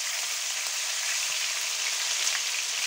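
Chicken pieces fry hard in a pan over high heat for a stew with paprika, giving a loud, steady, close sizzle with no talk.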